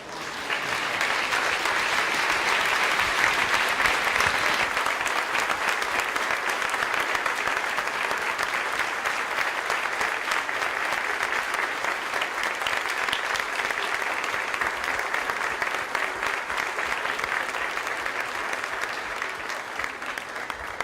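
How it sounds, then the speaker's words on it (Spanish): A lecture audience bursts into sustained applause, a dense, steady wash of clapping that holds strong for about twenty seconds and eases slightly toward the end, with no talking over it. "No me aguanté las ganas de recibir un aplausito y una caricia."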